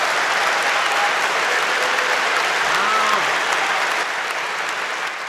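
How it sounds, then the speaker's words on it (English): Thunderous applause from a large audience, a dense, loud, continuous wash of clapping that holds steady and fades slightly near the end. "Thunderous applause."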